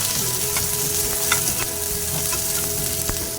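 Capsicum and tomato sauté in a pan for masala idli, giving a continuous, close, even sizzle with a few faint crackles and no voices.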